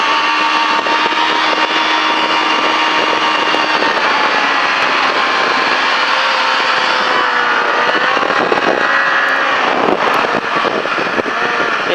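Motorcycle engine on a racing circuit at La Ferté Gaucher, a loud sustained roar whose pitch holds steady, then shifts and climbs as the bike accelerates near the end.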